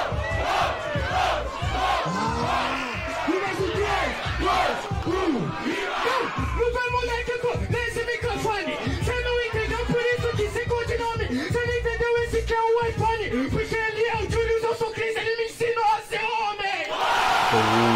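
A loud crowd at a rap battle shouting and chanting in unison, rowdy yelling that builds into rhythmic rising calls, dense and continuous throughout.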